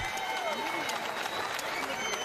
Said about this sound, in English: Let's have a round of applause for these amazing middleweight warriors